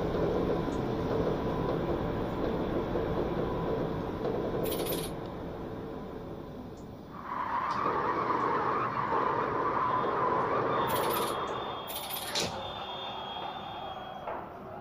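MAT 64 train in the Train Simulator Classic video game, a steady rumbling train running with a sustained squeal from its cast-iron brakes rising midway, plus a few brief clicks.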